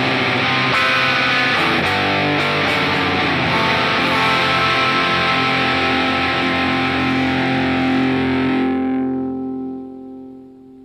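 Distorted electric guitar chords ring out loud, then a final chord sustains and fades away into silence.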